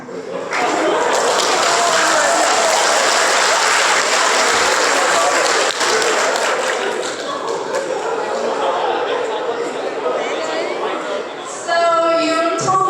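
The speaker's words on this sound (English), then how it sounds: "You're excited and you clap your hands." Students in a biology classroom clap their hands, a loud, steady burst of dense applause that keeps going for several seconds before thinning out near the end, where voices come in.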